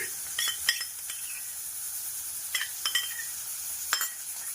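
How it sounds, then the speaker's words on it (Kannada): Ginger garlic paste and onions fry in a pan for pepper chicken, a soft steady sizzle broken by a few sharp scrapes and clinks of a spoon stirring against the metal, close and without talk. "ಅದಕ್ಕೆ 1 ಟೇಬಲ್ ಸ್ಪೂನು ಶುಂಠಿ ಬೆಳ್ಳುಳ್ಳಿ ಪೇಸ್ಟ್ ಆ್ಯಡ್ ಮಾಡ್ಕೊಳ್ಳೋಣ."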